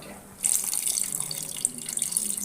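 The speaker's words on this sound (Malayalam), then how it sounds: "പുളിവെള്ളം" Tamarind water poured into a pot of sambar with okra, shallots, tomato and brinjal, a steady close splashing pour that starts abruptly and runs on without talk.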